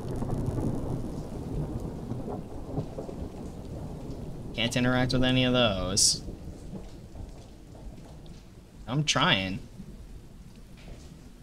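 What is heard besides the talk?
rain and thunder effects from a video game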